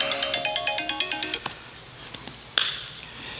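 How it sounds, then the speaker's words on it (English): A phone ringtone plays a quick, bright melodic pattern of rapid repeating notes for about a second and a half, then cuts off, followed by a few faint clicks and a sharp knock. "don't forget to silence your phone."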